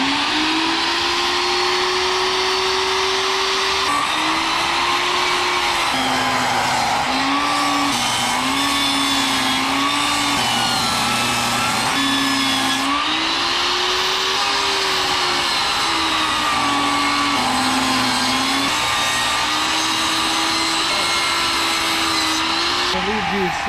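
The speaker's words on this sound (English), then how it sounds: "they just sand those ridges out" A power sander whines continuously and loudly while smoothing ridges off new wooden boards for a van build in a parking lot, its pitch shifting slightly as pressure changes, with voices faintly underneath.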